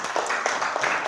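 A classroom group claps in short, uneven rhythmic bursts of applause, brief and moderately close.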